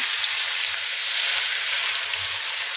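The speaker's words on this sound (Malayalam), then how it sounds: "നമുക്ക് ഈ കിഴങ്ങ് കുറേശ്ശെ ഇങ്ങനെ നിരത്തി ഇട്ട് കൊടുക്കണേ" Potato pieces laid into hot oil, frying with an even, dense crackling sizzle like light rain, close and steady throughout, with no one speaking.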